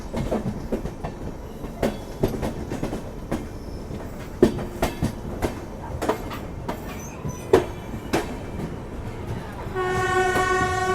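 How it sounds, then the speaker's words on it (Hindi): A passenger train pulls into Prayag Junction railway station with repeated wheel clatter over rail joints, then a long, loud horn blast near the end. "अपनी ट्रेन आधे घंटे पहले प्रयाग जंक्शन रेलवे स्टेशन पहुँच रही है"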